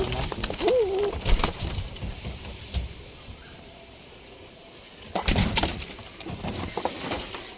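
Pigeons in a home loft coo softly in a few short calls, mixed with shuffling and brushing noises from the birds nearby, over a low background hiss.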